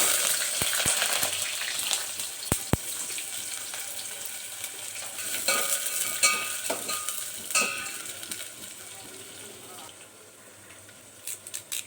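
Onions and curry leaves frying in hot oil for a bitter gourd tamarind stew, with a continuous bright sizzle, a few sharp clinks and stirs, fading slightly toward the end.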